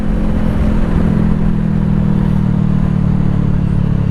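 A Honda CBR500R motorcycle with a full exhaust rumbles steadily up close, a deep throaty exhaust drone holding constant throughout with no voices.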